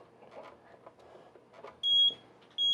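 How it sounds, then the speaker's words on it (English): A fire alarm panel in trouble gives two sharp electronic beeps close by after a stretch of faint background noise, the second cut short at the end. "You're going to have some beeping, which is normal with the panel in trouble."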